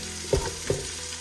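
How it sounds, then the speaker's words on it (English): Onion and celery sautéing in a pot, a steady close sizzle broken by two brief stirring scrapes, with no voices. "all we're doing is sauteing this for 3 or 4 minutes"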